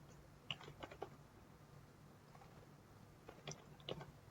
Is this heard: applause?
no